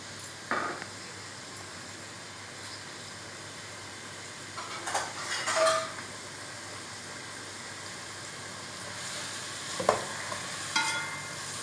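Onions fry in a pan for okra curry, a low continuous sizzle broken by a few scraping stirs of a spoon, moderately close and quiet, with no talking.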